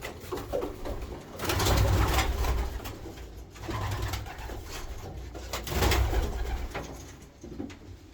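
Racing pigeons and their young coo in a loft, several soft low rolling calls rising and fading in waves over a steady background.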